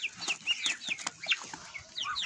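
Hens cluck softly on a farm where goslings and chicks roost with them, a quick irregular run of short clucks and higher chirping notes, close and fairly quiet, with no voices.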